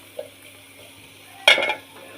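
Dried bamboo-leaf-pressed fish (shutki) stirred in a pan, one soft tap early, then a short loud scrape and sizzle of a utensil against the pan before quieting.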